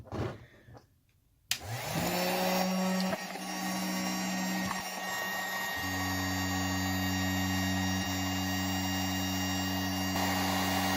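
Heat gun propped up and switched on, giving a steady electric blower hum and rushing air that starts abruptly after a short quiet moment and continues loud and unbroken, with a slight change in tone midway.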